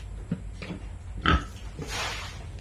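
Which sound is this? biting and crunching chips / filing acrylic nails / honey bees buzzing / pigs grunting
pigs grunting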